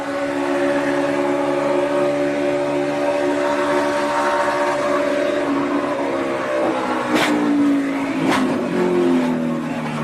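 A NASCAR race car's engine drones steadily after a big crash at the 2014 Sprint Unlimited, its pitch sliding as it downshifts, with two sharp bursts near the end, loud and continuous.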